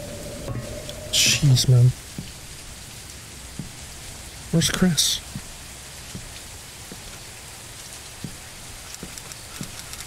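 Steady rain pours down in the Meat Game, a continuous hiss with scattered drop ticks, while someone speaks briefly over it in two short bursts.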